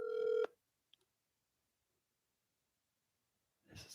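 A telephone call on speakerphone: a single loud electronic ring tone lasting about half a second, then near silence, with a faint stir of sound returning at the end.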